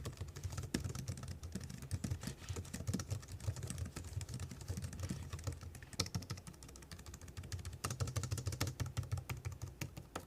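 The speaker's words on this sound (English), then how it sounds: "to show you guys what that sounds like, here's a quick typing test." Steady, quiet typing on a Logitech MX Keys Mini scissor-switch keyboard, soft rapid key taps in an uneven rhythm with no talking.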